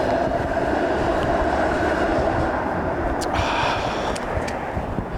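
A Toronto streetcar rolling past on Dundas Street, a loud continuous rumble of wheels on rails with rattling clatter and a few faint high squeals, close by and steady throughout.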